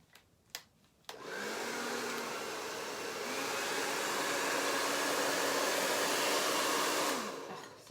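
A hair dryer used for painting switches on after a few sharp knocks and runs in a steady, loud whoosh for about six seconds, then cuts off.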